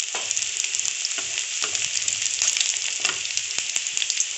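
Chopped garlic and ginger frying in a pan for Schezwan veg fried rice crackle in a bright, dense sizzle, with frequent quick scrapes and taps of a spoon stirring, close and steady, with no talk.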